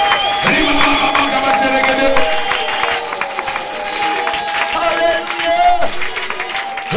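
A church congregation at a French-language evangelical prayer service cheers and claps to acclaim the Lord, with loud mixed voices and applause rising and falling throughout.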